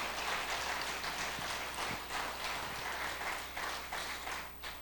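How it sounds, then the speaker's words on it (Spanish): A church congregation applauds together in a faint, steady wash of clapping with a few uneven surges, heard from a distance. "Vamos, dele un aplauso al Señor."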